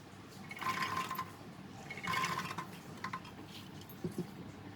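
Water pours in two short bursts into a metal pressure cooker holding peas, with faint clinks and splashing afterward.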